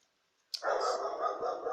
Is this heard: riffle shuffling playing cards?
no